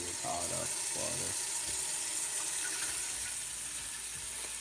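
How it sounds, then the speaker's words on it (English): Tap water runs steadily into a cooking pot being filled for pasta, a continuous close hiss and splash with a brief murmur of talk at the start. "So you just fill your pot up with water."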